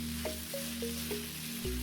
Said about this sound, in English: we return everything back to the wok, and we're gonna stir just a little bit more